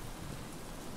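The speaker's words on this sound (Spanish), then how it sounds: "a ver si se calma un poco la lluvia" Rain pours steadily in Stranded Deep, a dense, even hiss of falling water with a low rumble beneath, heard briefly and without voices.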